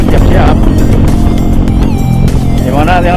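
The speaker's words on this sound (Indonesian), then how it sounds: "kalau misalkan gak buka peredam ini suaranya knalpot kacau" A Benelli Motobi 200 EFI motorcycle roars with a loud, raw exhaust note while riding on the road, a constant heavy rumble close by with wind noise and a voice talking over it.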